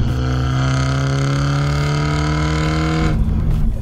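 Toyota GR Supra 2.0 turbo engine and exhaust in comfort mode, a loud, steady, close droning note with strong even harmonics that drops away near the end.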